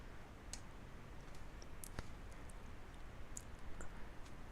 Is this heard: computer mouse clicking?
yes